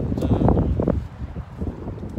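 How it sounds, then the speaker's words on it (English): Gusty wind buffets the microphone outdoors in a cold, rainy park, a loud low rumble that swells and eases over a couple of seconds with no talking. "It's very windy, rainy."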